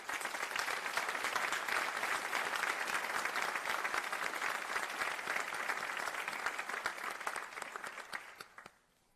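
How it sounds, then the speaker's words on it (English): Sustained applause from the audience at a Greensboro city council special meeting, many hands clapping in a thick, continuous roar that gradually thins and fades out at the close. "Please join me in giving these individuals a well-deserved round of applause."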